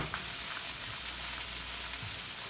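Butter and a little oil sizzle steadily in a hot pan while blackening fish such as salmon, cod or tilapia, an even, continuous frying hiss with no voices.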